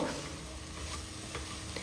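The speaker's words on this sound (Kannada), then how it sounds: "ಬೇಯಿಸಿದಂತಹ ಕಡಲೆಯನ್ನು ಸೇರಿಸಿ ಒಗ್ಗರಣೆಯಲ್ಲಿ ಚೆನ್ನಾಗಿ ಇದನ್ನು ಮಿಕ್ಸ್ ಮಾಡ್ಕೊಳ್ಳೋಣ" Boiled kabuli chickpeas stirred into a spinach tempering in a hot pan, giving a steady close sizzle and frying hiss with soft scraping stirs throughout, no voices.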